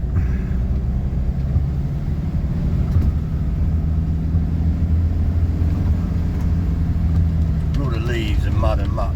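A rear-wheel-drive supermarket delivery van drives through a storm in Cornwall, its steady low engine rumble and road noise continuous throughout, with a brief higher whine near the end.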